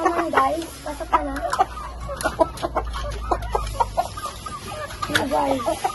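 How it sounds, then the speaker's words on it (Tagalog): Gamecocks (panabong fighting chickens) cluck repeatedly in short, uneven bursts close by, with an occasional louder squawk over a low background rumble. "Tapos ibang manok naman."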